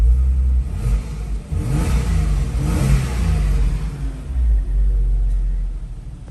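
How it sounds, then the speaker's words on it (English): A 2001 Porsche Boxster S (986) engine revs up and settles repeatedly, a deep throaty rumble rising and falling close by, with no talking. "it's a relatively nice engine sound."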